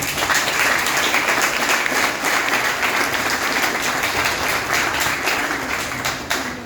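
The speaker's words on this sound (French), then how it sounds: "Applaudissez pour ça." An indoor audience at a school-related launch event gives sustained, dense applause at steady loudness, tapering slightly at the end.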